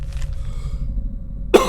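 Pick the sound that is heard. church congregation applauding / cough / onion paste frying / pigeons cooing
cough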